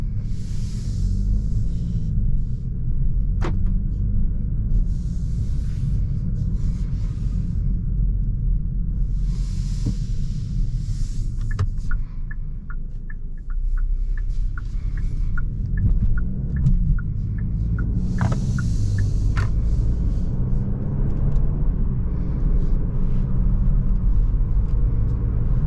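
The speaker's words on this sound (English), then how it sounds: "Alright, so driving this 2024 Hyundai Elantra N Line." Inside a 2024 Hyundai Elantra N Line on the road, a steady low engine and tyre rumble fills the cabin, with occasional faint knocks and rattles from the stiff suspension and no talking.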